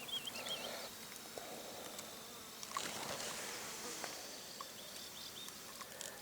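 Bees buzz around pumpkin flowers, a continuous close insect drone that rises and fades as individuals fly past, with no voices.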